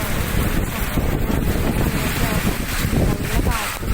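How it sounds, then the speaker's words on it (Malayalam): Strong wind with rain outdoors, a loud continuous rushing and buffeting that batters the microphone, with gusty surges and no clear breaks. "അപ്പോൾ ഇവിടെ നല്ല കാറ്റും മഴയൊക്കെയാണ്."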